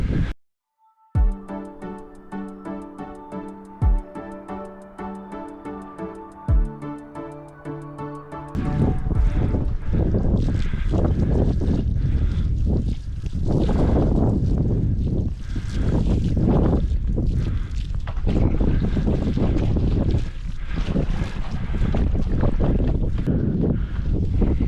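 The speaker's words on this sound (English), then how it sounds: "So we actually got the wind kind of coming out of this way." Wind blows outdoors in a snowy field: steady, loud gusting rushes with microphone buffeting fill most of the clip, after a quieter opening with a tonal musical passage.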